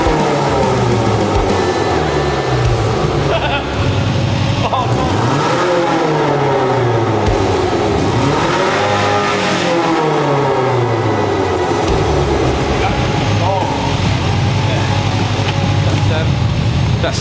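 A Subaru MV pickup engine with a failing silencer revs up and down repeatedly with a rough, rising and falling roar close by, while people talk over it.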